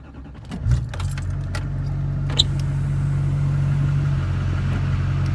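A GMC Sierra pickup truck's engine idles and rises slightly as it backs up, a steady close mid-low rumble after a brief clunk at the start, with no talk.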